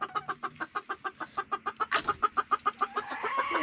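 Chickens cluck inside a chicken house in a rapid, steady rhythm of close, loud calls, with a busier overlapping flurry of clucks partway through.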